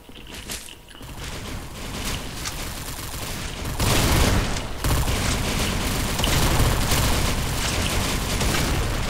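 Gunfire in the video game Hellreaver Arena rattles in rapid, dense bursts with booming hits, loud and continuous over nine seconds, swelling heavier about midway.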